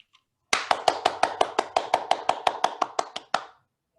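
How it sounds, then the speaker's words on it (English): About fifteen quick, even hand claps ring out close and loud in a steady rhythm over a Zoom call, then stop abruptly. "I don't think we've really like super figured out the clapping over Zoom thing"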